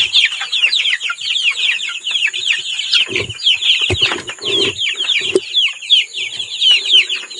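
A flock of one-month-old Rhode Island Red chicks on a farm cheep and peep constantly in a busy high chorus, with a few lower clucks mixed in and some soft handling noises, and no talk.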